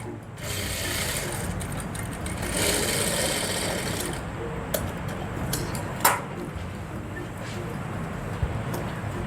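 A sewing machine runs steadily for several seconds stitching the lining of a kurti, a continuous close mechanical whir with a few small clicks and knocks near the end.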